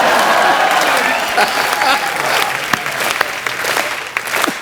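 Studio audience applause on an Indian television comedy show, loud and steady at first, then thinning into scattered claps with a few sharp individual hand claps near the end.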